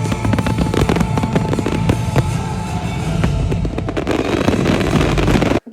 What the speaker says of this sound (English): Tonight we're going to watch the fireworks at Battersea